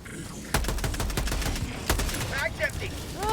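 Cannon fire in the video game Helldivers, during an Automaton dropship battle on Malevelon Creek: several sharp, booming blasts in quick succession, mixed with chirping electronic effects and faint voices.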